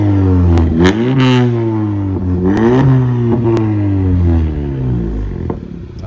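A car fitted with a newly installed MAPerformance downpipe revs loudly up close, its engine climbing and falling in several throttle blips with a rough clattering edge and no voices.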